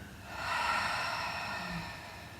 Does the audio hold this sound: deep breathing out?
yes